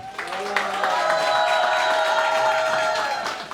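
Steady applause from a crowd at an oath-taking ceremony for new board members, continuous and fairly loud, with a sustained tone and some background voices mixed in.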